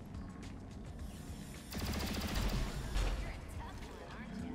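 Bursts of rapid gunfire from the turn-based strategy video game XCOM: Chimera Squad rattle out in two loud volleys over a busy game soundscape, with a voice talking faintly underneath.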